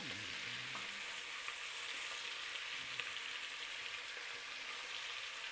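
Large pieces of beef for bœuf bourguignon sizzle and fry in a pan, a steady dense crackle with occasional faint stirring knocks, no talking.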